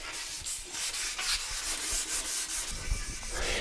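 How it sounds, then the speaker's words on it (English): Steady back-and-forth scrubbing of a sanding block with 800 grit on a wet bike surface, continuous abrasive rubbing with rhythmic strokes, close up and fairly loud, no talking. "for wet sanding, we need wet sander, the wet sanding bucket, and of course 800 grit"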